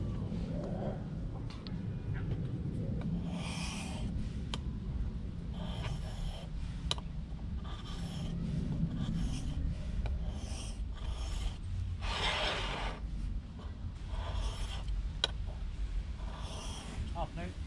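Hand sharpening of a Lie-Nielsen hand plane blade on a stone, a steady scraping rasp with repeated strokes, close and continuous, with brief bursts of brighter grinding and someone talking at times.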